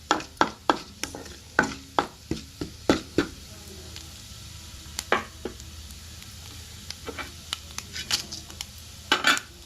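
Tempering seeds fry in a pan with a soft background sizzle, broken by a string of sharp close pops and crackles at irregular intervals, with no talking.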